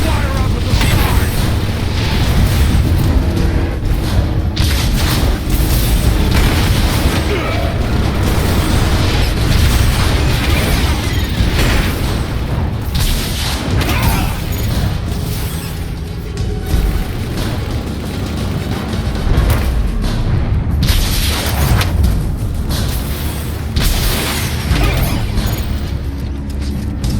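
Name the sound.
rocket explosions in video game Transformers War for Cybertron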